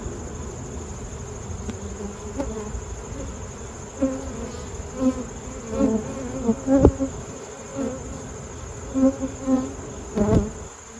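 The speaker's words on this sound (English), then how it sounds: "And this hive is loud." A dense, loud droning hum of many honey bees in a hive fills the space continuously, with swelling pulses of buzzing rising and falling close by.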